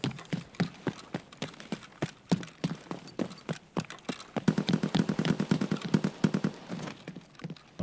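Footsteps on plastic flooring in Escape From Tarkov, a quick regular run of hollow, clacking steps, close and distinct, speeding into a denser patter midway.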